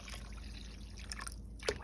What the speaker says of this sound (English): I just put some water in this pot